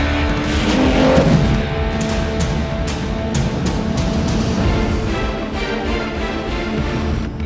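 A car is driven hard in a movie chase, its engine roaring loud and continuous, with tyre squeals, skids and sharp impacts cutting through the dense action mix.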